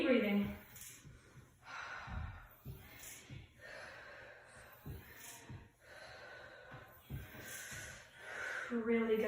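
Heavy, forceful breaths with snort-like exhales and gasping inhales during a dumbbell glute workout, repeating in an uneven rhythm of close, fairly loud bursts.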